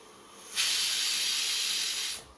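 A pressure cooker cooking Schezwan sauce vents steam in a loud, sustained hiss that lasts about a second and a half, then stops abruptly.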